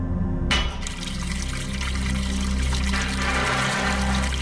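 A sudden splash starts a continuous gushing rush of water leaking from a broken pipe in the video game The Uncertain, which keeps pouring steadily, loud and close, with no voices.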